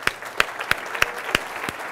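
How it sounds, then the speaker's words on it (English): Audience applause at a startup talk event, a steady run of sharp individual claps with a thinner wash of clapping underneath, fairly close and brief. "let's give him a round of applause and get him on up here"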